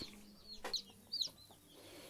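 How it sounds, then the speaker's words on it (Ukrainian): A few faint, high chirps from day-old broiler and Master Grey chicks come in short bursts over a quiet, slightly hissy background. "Такі зовсім манюсінькі добові курчатка."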